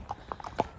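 Horse hooves clip-clop on a worn road lane, several quick, fairly close hoof strikes in an uneven rhythm.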